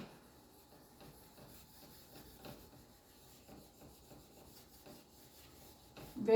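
Writing is rubbed off a classroom board with a faint, steady run of soft, rhythmic rubbing strokes, followed by a short louder bump at the end.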